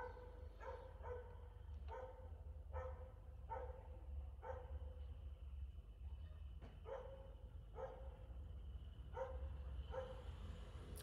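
A dog barks repeatedly at a moderate distance, evenly spaced single woofs roughly every second over a low steady background hum, with no talk.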